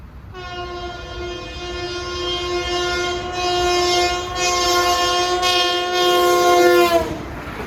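An LIRR westbound equipment train roars past a grade crossing in Brentwood on the Ronkonkoma line, its horn blaring a long sustained chord over heavy rumbling wheels, close and loud throughout.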